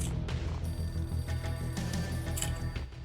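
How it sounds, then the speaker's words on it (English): An old, battered telephone ringing in an entrance hall in the game Max Payne, a trilling ring set against a dense, steady game soundscape. "A beaten-up phone in the entrance hall was ringing."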